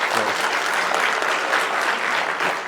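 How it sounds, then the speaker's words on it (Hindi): An audience claps steadily and densely for a few seconds in a lecture hall, a continuous close wash of applause with no voices over it. "ढंग से ताली बजाओ यार"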